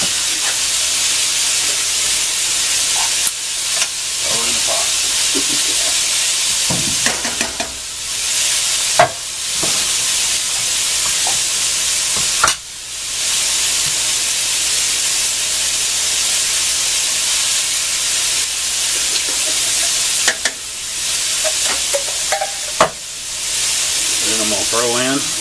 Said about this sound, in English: Got that sausage cook